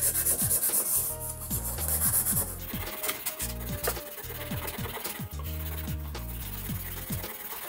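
A burnt, blackened pot is scrubbed with multipurpose abrasive cleanser in steady back-and-forth strokes, a loud, close, gritty rubbing with rhythmic pauses between passes.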